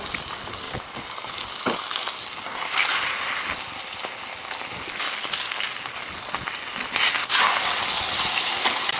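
Steak frying in a hot pan gives a steady, close sizzle of crackling and spitting fat, with a few sharper pops and bursts near the end and no talking.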